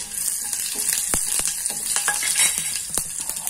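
Mustard seeds and cumin sizzle in hot oil, a steady close hiss dotted with sharp, irregular pops and crackles as the seeds burst.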